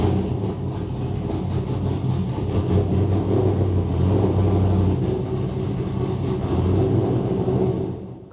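A 383-cubic-inch LS1 Camaro engine on a chassis dyno drones and revs steadily at close range, holding a loud mid-pitched roar with slight rises before dropping off at the end.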